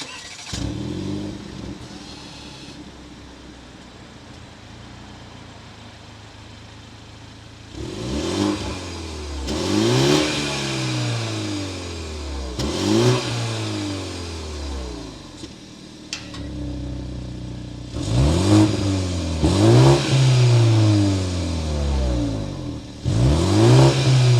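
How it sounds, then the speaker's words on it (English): A 2022 BMW 230i coupe's turbocharged inline-four engine revs hard several times, each throttle blip rising sharply then falling back to a rumbling idle, loud and close. "with the twin-scrolled inline 4-cylinder turbocharge, we need to hear that exhaust note"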